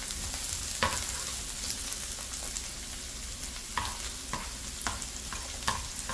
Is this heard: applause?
no